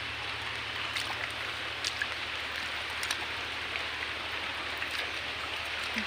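Heavy rain pouring during a storm, a dense steady hiss of falling water with scattered louder drops, constant and fairly close with no voices.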